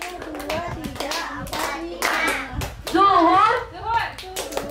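Children at a science camp clap their hands in short counted bursts, a few quick claps at a time, close by and mixed with a woman's and kids' speech and sing-song voices.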